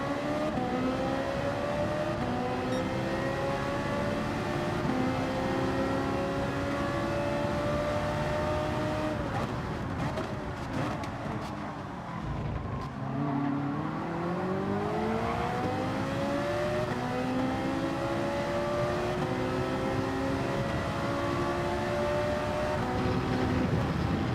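A Porsche race car in Gran Turismo 7 online lobby racing, its engine droning loud and continuous with rising and falling revs through gear changes, dipping briefly mid-race before climbing again, with no talk.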